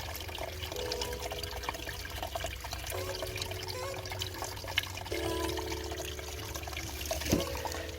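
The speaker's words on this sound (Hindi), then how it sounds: "ये कई 100 साल पुराने चश्मे हैं जो यहाँ से कुदरती बहते हैं" Natural spring water, an old village spring in Azad Kashmir, flows out of the ground with a continuous soft gurgling trickle, fairly faint and steady with no talk.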